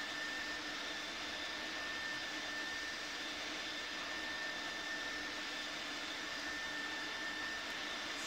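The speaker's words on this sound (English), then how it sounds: "Full reverse thrust." Airbus jet engines roaring in full reverse thrust during landing, a loud steady broadband rush with a constant high whine running throughout, heard from inside the cabin without a break.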